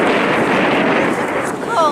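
Cold wind sweeps across a high Lake District mountainside near the peak, a loud, steady rushing buffet against the microphone with a faint voice briefly rising at the very end.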